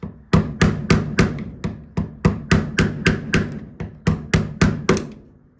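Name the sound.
hitting Firebird Camaro header trim clip into place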